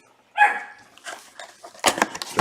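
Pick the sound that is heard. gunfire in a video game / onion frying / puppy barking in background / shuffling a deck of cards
puppy barking in background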